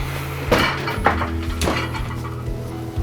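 A gas range is lifted and slid across a Masonite board on the floor, giving several close knocking thumps and scraping shoves with low mechanical rattles in between.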